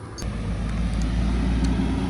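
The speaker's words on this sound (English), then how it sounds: "Oh, and there's a truck of rock." A truck hauling a load of rock rolls in, its engine a steady low rumble that holds close and fairly loud for a couple of seconds, with no talking over it.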